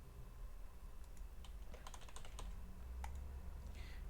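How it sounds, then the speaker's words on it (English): Quiet tapping on a computer keyboard while entering words into a jQuery web form, a short uneven burst of faint keystrokes over low room hum, no talk. "Now I type in some words."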